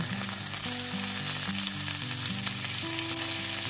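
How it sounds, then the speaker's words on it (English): Fish frying in butter in a pan on a cooker at medium-high heat gives a steady, close sizzle and hiss throughout, with melodic background music playing over it. "Add 1 tablespoon of butter to brush the pan to fry fish. Put the fish in the pan."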